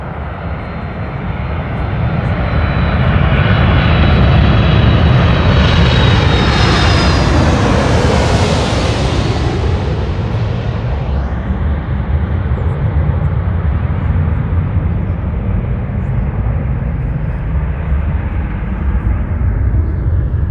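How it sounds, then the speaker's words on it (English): A Southwest Boeing 737-700 jet turns for takeoff at Los Angeles International Airport. Its engines roar loud and continuous and rise in a spooling whine that builds, peaks and holds as a steady broadband rumble. "As our Southwest 737-700 turns to take off"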